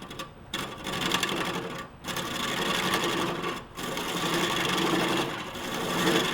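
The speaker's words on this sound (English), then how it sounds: "We can just essentially start this on low, bring our lathe up to speed" Wood lathe turning a wooden vessel: loud, continuous whirring and rasping of the tool on the spinning wood, broken by a few brief pauses.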